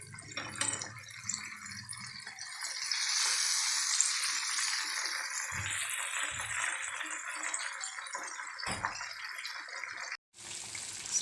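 Chicken sizzling and crackling in hot oil for shawarma, a steady loud fry with occasional rattles and clinks, fading briefly near the end before picking up again.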